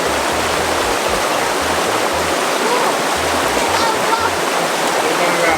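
A river stream flows steadily at close range with a constant broadband rush, and faint low background sounds sit beneath the water.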